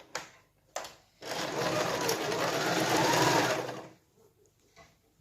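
A sewing machine sews pin tucks, running in one burst of about three seconds after a couple of brief clicks, close and moderately loud with rapid whirring stitches.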